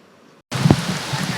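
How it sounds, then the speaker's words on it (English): Steady rain pouring down during a storm in East Phoenix, Arizona, near 52nd Street and Thomas Road, falling while the sun stays out; a quiet lull gives way to a dense, continuous wash of close rain with no voices. "Near 52nd Street and Thomas Roan, rain coming down while the sun was still out."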